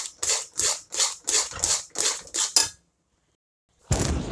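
Semolina shira is stirred in a pan with a metal spoon, giving about nine rhythmic scraping strokes, then a pause and another burst of scraping.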